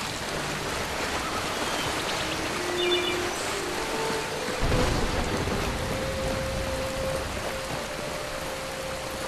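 Steady rain pours in the video game Skyrim, a dense continuous hiss with a low rumble of thunder midway, loud and unbroken, without any talking.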